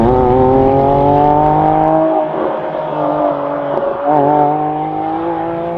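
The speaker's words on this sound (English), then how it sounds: "The scream of this engine at peak revs occupies not just the space between your ears, but every part of your body." Porsche 997 GT3 RS engine at full throttle, climbing through the revs in a loud, close, sustained high-pitched scream, briefly dipping at a gear change before rising again.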